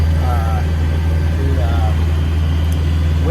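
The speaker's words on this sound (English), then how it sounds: "as you can hear, the engine's on" A sailboat's auxiliary engine runs steadily at sea near Cuttyhunk, making a low, constant drone that fills the whole stretch, with faint voice-like sounds over it.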